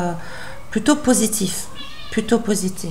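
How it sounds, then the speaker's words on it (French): A pet cat wandering nearby gives a couple of short meows, mixed in with a person talking in French close to the microphone. "c'est mon chat qui se promène dans le coin."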